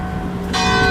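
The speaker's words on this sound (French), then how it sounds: "vous entendez les cloches sonner." Church bells ring out in the street during a bike ride, a bright resonant strike swelling in halfway through the brief moment, its tones sustaining loud and close.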